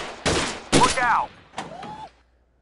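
Several gunshots ring out at a gun club shooting stage: two loud, close reports in quick succession, then a sharper shot with a ringing tail, before the range falls quiet.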